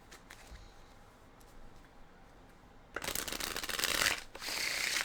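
Tarot cards being shuffled, a quiet room hush followed by a loud, dense riffling burst of cards that runs for about two seconds, dips, then resumes close and crisp.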